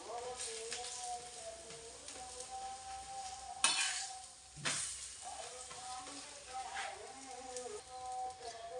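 A capsicum paratha is pressed down and cooked on a hot tawa over a gas flame, with a steady quiet sizzle, scraping presses and a couple of sharper clatters, plus faint birdsong in the background.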